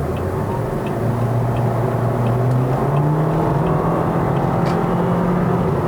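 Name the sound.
2017 Toyota Vios CVT engine revving while accelerating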